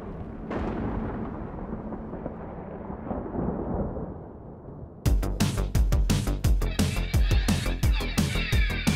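Thunder rumbles and rain falls in the video game Wolfenstein: Youngblood, a loud rolling boom opening over steady rain, then sharp crackling bursts and impacts taking over halfway through.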